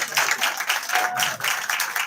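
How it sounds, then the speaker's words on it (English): An audience at a community library's MLK Day panel applauds for a man who led students, a dense, steady wash of many hands clapping together throughout, with a faint voice mixed in. "Can we get a round of applause for Mr."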